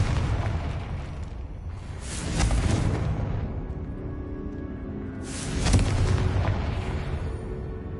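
Blasting spell explosions in the fantasy video game Hogwarts Legacy, two heavy booming bursts a few seconds apart, each with a rumbling tail over a low continuous game soundscape.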